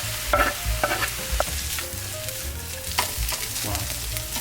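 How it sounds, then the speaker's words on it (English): Pork sizzles with garlic in a hot pan, a steady close frying hiss broken by repeated metallic clinks and scrapes of a utensil stirring the meat, with no talking. "After about another minute, we're gonna add our pork."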